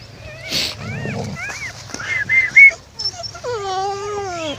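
Dogs at a village home gathering to eat roti, with short whimpers and yips from an eager dog close by, mixed with a few brief human voices.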